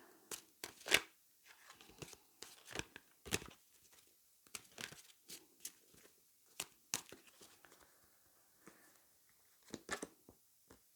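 Crisp, rapid bursts of tarot card shuffling, riffles and flicks in irregular clusters, close and fairly quiet, with no talking.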